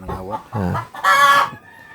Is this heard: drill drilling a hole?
no